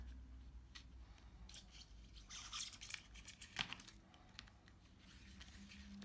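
A razor blade cuts the adhesive seal under the back glass of a Samsung S8, making faint scraping and crackling sounds in irregular bursts, close but quiet, with no talk.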